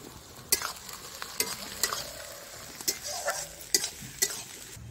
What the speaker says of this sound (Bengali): এবারে থেতো করে রাখা রসুনটা দিয়ে দিচ্ছি।